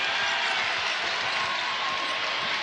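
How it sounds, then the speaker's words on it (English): A sellout Texas Tech basketball crowd cheering and clapping in the arena, a continuous dense roar of applause and voices, steady and loud throughout with no break. "Chris Beard urging this Texas Tech sellout crowd into the game."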